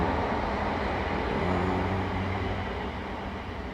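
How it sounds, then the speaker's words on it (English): A train passes at a distance beyond a garden, a broad steady rumble that slowly fades, heard alone without talk. "there's a train going by"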